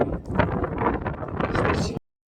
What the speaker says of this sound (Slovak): Fuj, ale riadne fúka.